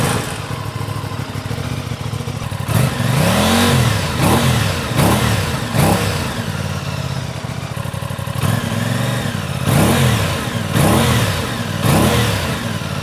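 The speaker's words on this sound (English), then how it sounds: "And now here's the RS660's exhaust." Aprilia RS660 motorcycle exhaust at close range, a loud idle broken by several quick throttle blips that rise and fall in pitch, in two separate groups of revs.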